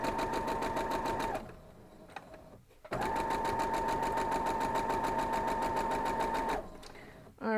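A sewing machine stitches fabric for an Ohio star quilt block, running in a loud, steady buzzing rattle for about a second, pausing, then running again for several seconds before stopping.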